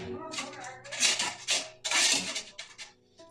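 A perforated metal plate set down inside a pot of boiling water while making lentil pradip pitha, giving a few loud metallic clanks and rattles close by, with some voice in the background.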